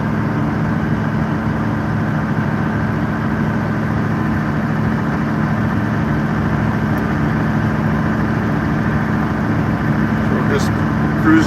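A John Deere 8850 V8 tractor pulls a roller harrow (cultimulcher) across a field, its engine droning steadily and loudly from inside the cab throughout, with no change in pitch.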